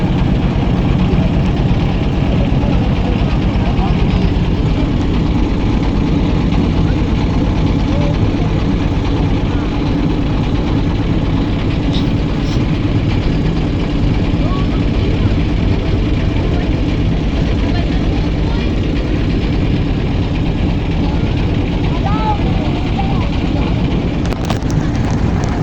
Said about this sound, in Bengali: ট্রলারটা ঘুরে আমাদের নিয়ে যায়।